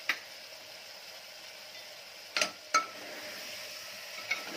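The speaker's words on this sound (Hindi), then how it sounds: "आप देख रहे हैं दोस्तों कितना अच्छे तरीके से ये भुन रहा है।" Chopped ginger, garlic and salt roast in a pan for tomato soup, with a soft, steady sizzling hiss and a few brief clinks of a utensil against the pan, and no voices.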